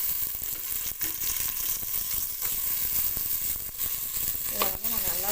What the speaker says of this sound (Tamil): இப்போ தக்காளி பழம் அறுத்து வச்சுருக்கிறதையும் போட்டுறேன்.